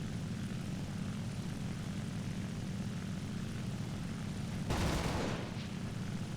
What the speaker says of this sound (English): The LA5 is a very, very fast aircraft.